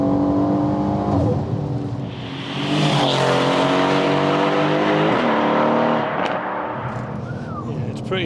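Heavily modified Mercedes C63 AMG accelerating hard, a loud engine roar with rising pitch through repeated gear changes and brief tire squeal, heard from inside the car with people talking over it.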